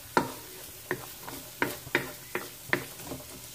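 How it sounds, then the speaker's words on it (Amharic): Carrots and garlic being stirred in a pan, a spoon scraping in a series of distinct, fairly close strokes roughly every half second over a faint sizzle. "እያማሰልኩኝ እጠብሰዋለሁ።"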